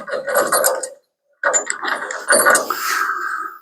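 A three-quarter inch ratcheting wrench being worked, giving two close, loud bursts of rapid clicking separated by a brief silent pause, with no talk over them.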